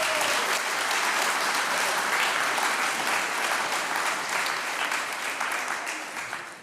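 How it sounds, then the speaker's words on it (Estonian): A large crowd's sustained applause for two folk musicians on kannel and accordion at an Estonian dance festival evening, dense steady clapping that carries on for several seconds and thins toward the end. "Teeme neile ühe suure aplausi."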